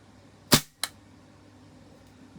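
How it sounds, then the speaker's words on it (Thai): A Tokyo Marui SIG P226 airsoft gas pistol fires two sharp, loud, close shots about a third of a second apart, followed by quiet. "ผมจะให้ดูฟิลลิ่งการยิงนะ"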